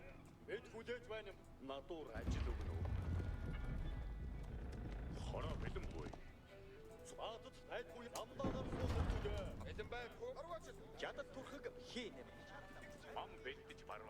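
Hooves clip-clop in bursts amid Age of Empires IV game sound effects and music, with louder galloping passages between quieter stretches.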